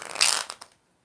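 Tarot cards riffle-shuffled during a live reading, a single crisp burst of papery flutter that fades out within about a second, close and fairly quiet.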